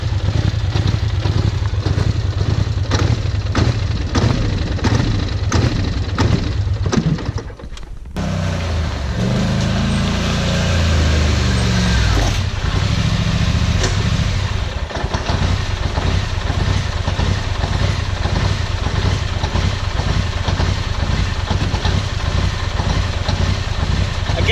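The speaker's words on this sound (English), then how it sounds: "I guess it didn't like 70 mile an hour not going anywhere, banging off the rev limiter" Polaris quad ATV engine screaming against its rev limiter at full throttle, a loud buzzing drone with rapid stuttering cuts, briefly dipping midway before resuming the harsh bouncing roar.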